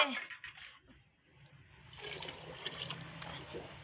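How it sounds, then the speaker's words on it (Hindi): Measured water poured from a vessel into a pot of cooked vegetables for vegetable rice, a soft trickle followed by a fuller, steady gushing pour, faint and close. "अब हम डालेंगे इसमें पानी।"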